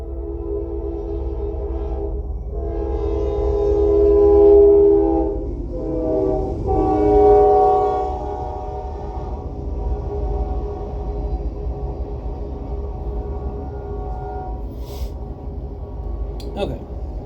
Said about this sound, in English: There is a train incoming.